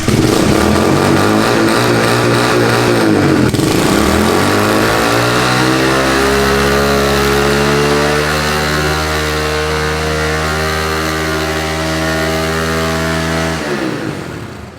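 A Honda K20 car fitted with a swapped Duramax diesel engine revs hard through first gear, its loud rising engine note climbing steadily for over ten seconds before easing off, close and alone with no talk.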